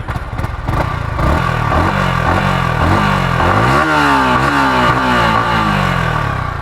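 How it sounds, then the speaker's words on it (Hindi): Yamaha R15M sport motorcycle exhaust, close and loud, with a steady series of sharp throttle blips followed by a sustained climbing rev that holds high before settling, no voices. "अब ये वाली की एग्जॉस्ट साउंड सुन लीजिए आप।"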